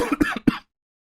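A cartoon boy coughs in a few quick, harsh bursts packed into about half a second, close and clear, then falls silent.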